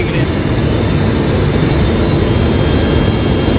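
A loud, continuous rumble of a moving train fills the space, steady and dense, heard from on board.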